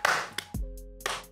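A few sharp hand claps ring out at a talk-show table, spaced unevenly and close by, with brief quiet gaps and a faint tonal hum between them.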